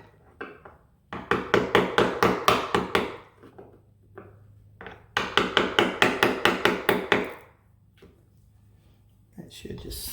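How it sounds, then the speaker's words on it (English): A chisel is tapped to clean out the lock recess in a door while fitting a Schlage keypad lock, giving two close bursts of quick, evenly spaced knocks, each about eight strikes long, with a quiet pause between them. "now I'm going to take my chisel and I'm just going to"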